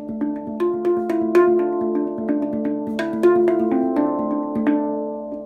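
Handpan fill pattern played with quick, rhythmic strikes, ringing metallic tones with overlapping sustained notes, close and clear with no voices.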